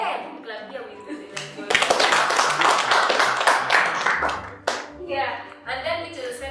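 An audience of students claps for a classmate, a loud, close burst of many hands lasting a few seconds, with voices talking before and after.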